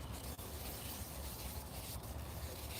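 A cherry wood spice jar is worked with 400 grit abrasive paste, giving a steady, close, unbroken rubbing hiss that continues without pause or voices.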